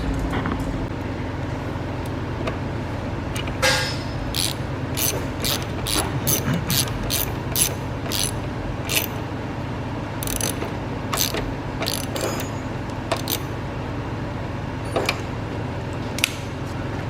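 A ratchet clicks in quick bursts while tightening a 10 mm bolt on a ground wire in the engine bay of a 1996–2000 Honda Civic, close and crisp over a low steady hum, with pauses between runs.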